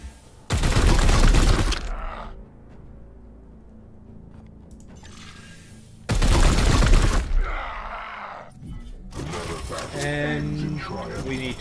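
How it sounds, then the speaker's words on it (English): Support gunfire in the Warhammer 40k: Chaos Gate – Daemonhunters video game: two loud, dense volleys, the first short and the second a few seconds later, with voices talking in the quieter stretches between and after. "There's the support fire."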